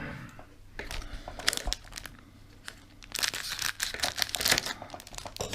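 Scissors cutting open a confectionery packet: close, irregular crinkling and crunching of wrapper plastic in bursts, getting busier and louder toward the end.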